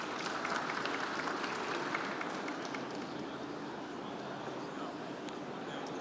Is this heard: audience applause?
yes